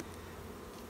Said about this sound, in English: There's a good population of bees in there.